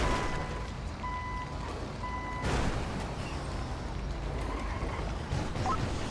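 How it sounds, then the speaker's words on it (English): An ambulance reversing in a GTA roleplay game gives a steady series of evenly spaced electronic beeps over a low engine rumble, with a brief air-brake hiss partway through. "The ambulance is back for some reason?"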